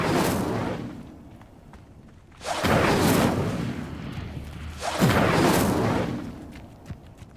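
Spell effects from Hogwarts Legacy, with Incendio among other spells: three loud, broadband whooshing bursts, each swelling and then fading, arriving at roughly two-and-a-half-second intervals with a low rumble beneath.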